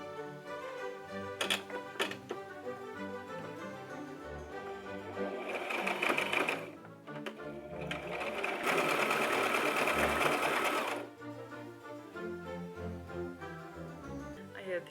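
Domestic sewing machine stitching the fingers of a homemade fabric glove, its needle chattering in rapid mechanical bursts that speed up and stop, heard up close indoors alongside faint talk.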